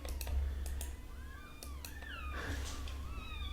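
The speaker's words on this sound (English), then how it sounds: "You hear those noisy kittens and shouting for cream" Kittens meow and cry in a rising, wavering series of short calls, fairly close, over a steady low hum with occasional clicks like keyboard typing.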